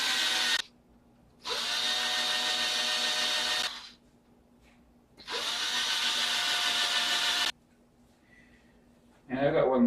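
A power drill bores drainage holes into plastic yogurt container pots, running in two sustained whirring bursts of about two seconds each, separated by pauses, with a brief higher whine at the end.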